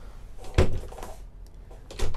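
A toilet door inside a 2020 Fleurette motorhome swings shut with a sharp close-range thunk, followed by a softer rattle and a second solid knock near the end, with no talking.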